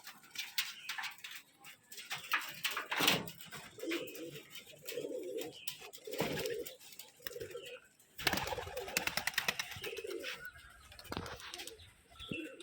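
Pigeons from a gerebaj pigeon flock at a Rajshahi home loft coo in low repeated bursts, with occasional wing flaps and rustling, while a person talks intermittently nearby.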